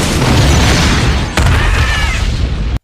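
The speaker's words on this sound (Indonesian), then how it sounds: "tiba-tiba saja sebuah bus yang di dalamnya banyak orang pun meledak" A bus packed with passengers explodes in the film The Foreigner, a massive, roaring blast that fills the whole clip, with a sharp crack partway through and a sudden cutoff at the end.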